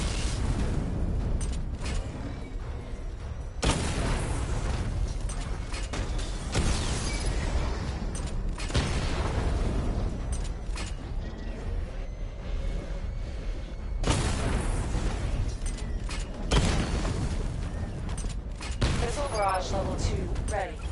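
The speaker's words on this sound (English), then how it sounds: "Charge the missile barrage to level 2 to destroy up to 4 targets at once." In the Arkham Knight video game, a missile barrage detonates in repeated heavy bursts, rumbling booms spaced a few seconds apart over constant mechanical noise.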